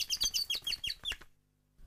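A little cartoon bird gives a quick run of bright, high chirps in a close, lively burst that stops suddenly into near silence.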